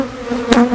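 A moved swarm trap full of agitated honeybees hums with a dense, close buzzing that swells louder partway through the brief moment.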